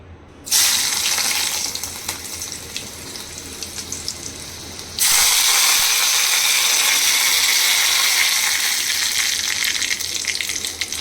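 Cooked dal poured into a hot oil tempering, a loud sudden sizzle that starts abruptly, rises sharply halfway through and then holds as a steady, close hiss with no talk.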